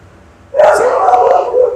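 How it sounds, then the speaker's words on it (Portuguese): A dog barks loudly and close by during an indoor talk about citizenship and self-defense, a single sustained outburst that starts abruptly after a quiet moment. "dá para fazer o cachorro calar a boca?"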